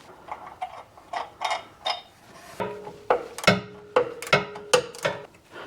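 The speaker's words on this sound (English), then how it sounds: "we're just gonna remove these 2 14 millimeter bolts that hold the cylinder in place" Two 14 mm bolts being loosened from the clutch slave cylinder of a 1980 Toyota FJ40 Land Cruiser: a close series of sharp metallic clicks and ratcheting taps, irregular and growing louder toward the end, with no talking.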